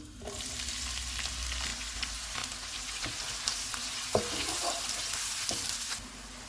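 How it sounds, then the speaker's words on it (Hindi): Oil sizzles and crackles steadily as onions fry golden in a pan for dal keema, with a few sharper pops and clinks of stirring over a constant hiss. "प्याज डालेंगे, इनको गोल्डन फ्राई करेंगे।"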